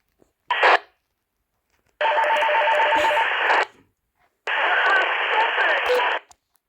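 Three bursts of walkie-talkie radio transmission, a short one followed by two longer squelchy spans of static with garbled voices, separated by silence.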